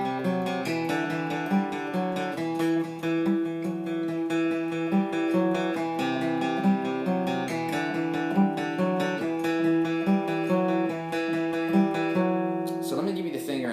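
A guitar picks a steady, repeating pattern of single notes that rocks back and forth between the fifth and fourth strings, played close and clear.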